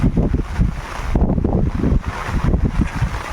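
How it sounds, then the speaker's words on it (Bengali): Gusty wind in the Sundarbans buffeting the microphone in uneven rumbling bursts, loud and close, with no voices. "সঙ্গে হালকা হাওয়াও হচ্ছে"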